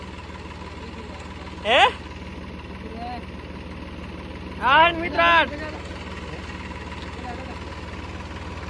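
A tractor engine idles with a steady low drone on a farm during sowing season, while a few brief bursts of speech sound over it.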